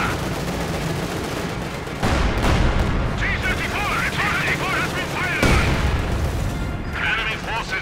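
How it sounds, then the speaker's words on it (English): Heavy mortar fire in the World War II strategy game Company of Heroes 2, repeated booming launches and impacts with rumbling blasts and crackling debris, dense and loud, with a voice commentating over much of it. "Heavy mortar rounds continue to fire."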